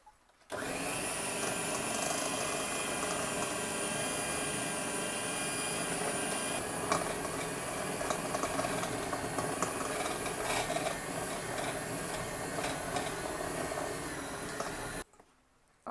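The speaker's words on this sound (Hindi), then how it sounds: "अब कीमे को हम इसमें ब्लेंड कर लेंगे, थोड़ा और बारीक कर लेंगे" A blender mincing keema (minced meat) for kofta curry whirs loudly and steadily for about fifteen seconds, starting and stopping abruptly, with no voices over the motor.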